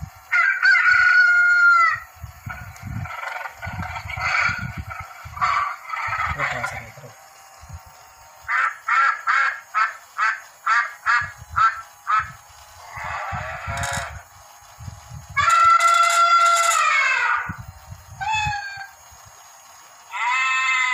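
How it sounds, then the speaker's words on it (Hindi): A Kiddale musical toy minibus plays a sequence of electronic-sounding recorded animal calls, a rooster crowing, clucking and bleating, one after another in short bursts with gaps between. "डिफरेंट एनिमल्स के साउंड जो है आप इसमें सुन सकते हैं"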